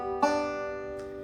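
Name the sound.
banjo Scruggs lick inversion over the five chord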